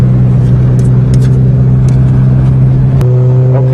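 A Toyota GTS engine holds a steady, loud droning idle-level rev close by, with a slight shift in pitch near the end as the gear changes.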